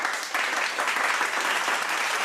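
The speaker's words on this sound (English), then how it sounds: "I'm gonna clap in advance." Hands clap rapidly and continuously in a dense, even patter close by, with no pauses over a couple of seconds.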